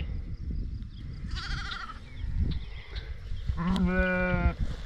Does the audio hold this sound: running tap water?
no